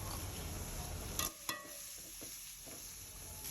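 Thinly sliced onion, curry leaves and sliced garlic fry in hot oil, a steady close sizzle for a devilled prawn dish. Two brief stirring clacks interrupt it midway.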